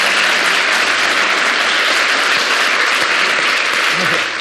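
Dense, loud audience applause fills the room after a lecture, steady and sustained throughout with no speech over it, fading slightly at the very end.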